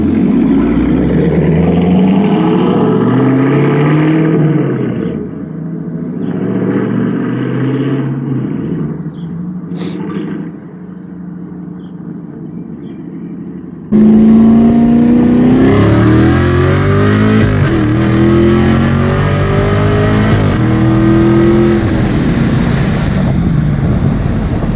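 A Chevrolet Camaro with a newly fitted loud exhaust revs up close, its deep rumble rising and falling in bursts, a brief quieter stretch in the middle, then a harder, louder revving run.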